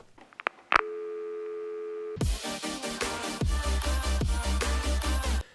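A few short beeps are followed by a steady telephone tone, then a rapid series of repeated electronic phone tones and clicks.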